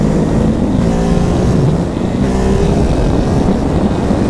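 Ducati Hypermotard 950 SP motorcycle accelerating hard in third gear on an Italian road, a loud, steady engine roar with rising pitch sweeps close by throughout.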